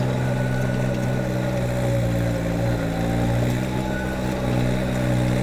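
A Kubota BX subcompact tractor engine labors steadily while tilling a garden ridge, a continuous loud droning hum with strong low harmonics and no pauses.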